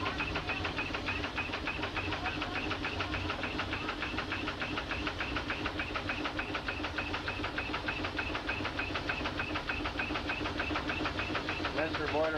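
Model steam engine wet air pump running at a steamboat meet, a steady fast mechanical chuff and knock with hiss, continuous and close throughout.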